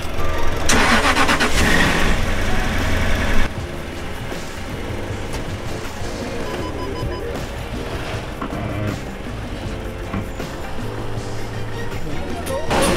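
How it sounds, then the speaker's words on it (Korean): A Jaguar XJ engine cranks and catches with a loud burst, then settles into a steady, close idle that runs on beneath people talking. "시동 걸어"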